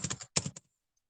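Typing on a computer keyboard, two quick bursts of clustered key clicks close by, then silence.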